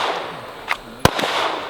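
Two sharp gunshots at an outdoor tactical shooting competition, a fainter report followed by a louder, crisp crack, set against steady background noise with no talk.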